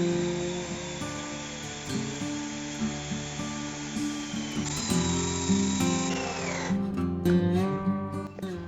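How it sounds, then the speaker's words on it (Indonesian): A power drill with a 3 mm bit bores into timber where rafter and beam wood meet while building a Japanese-style tatami bed, its motor whining steadily and loud with load changes, then spinning down near the end. "Kita lakukan pengeboran pada titik-titik yang mempertemukan antara kayu usuk dan kayu balok."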